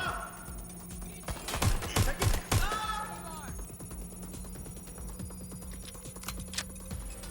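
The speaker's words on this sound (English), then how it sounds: "Suspect shooting!" Gunfire in the Watch Dogs Legion video game: a quick cluster of sharp shots about two seconds in, followed by lighter scattered pops and ringing tones over steady game ambience.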